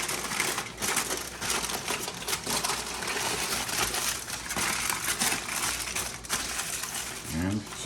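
Aluminum foil is crinkled and folded around pork spare ribs for a gravity smoker, a continuous close, loud crumpling and crackling with a few sharper crunches.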